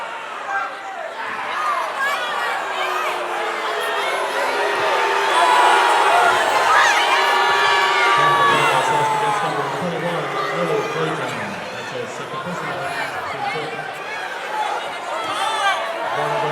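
Basketball arena crowd reacting to a foul call during a Troy vs Georgia State college game, a broad murmur and swell of voices that builds to a peak and then eases, heard under a commentator's talk.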